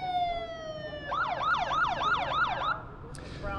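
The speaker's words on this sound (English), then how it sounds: "that is the siren." A warning siren sounds three minutes before the demolition of City Hall, first a steady descending tone, then a rapid rising-and-falling wail of several cycles, heard from a distance outdoors.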